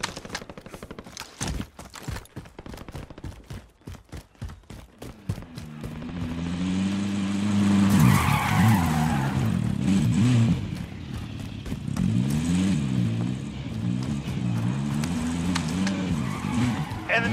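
Vehicle driven in Call of Duty: Warzone, the engine revving and rising in pitch with tire skids and squeals, loud and steady after a burst of sharp game effects, with speech heard over it.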